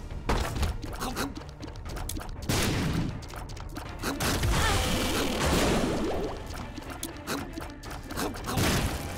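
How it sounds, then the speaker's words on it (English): Enemy explosive shots firing and bursting in The Binding of Isaac: Rebirth, a dense run of rapid, overlapping pops and thuds layered over constant game music and effects, steady and loud throughout. "he's got explodey shots"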